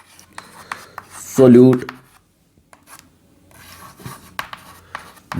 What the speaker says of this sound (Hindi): तो मैं यहां लिख रहा हूं